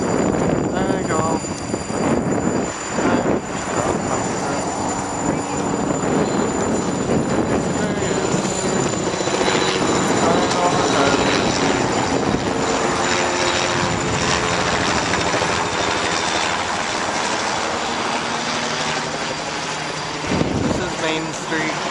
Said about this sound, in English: There's helicopters flying over.